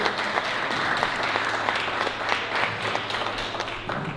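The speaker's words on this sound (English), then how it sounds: "can we clap our hands for the Bronze Heat organization?" A crowd at a Kwanzaa celebration event claps hands for an organization, a dense, lively burst of applause with individual sharp claps standing out, continuous and fairly loud throughout.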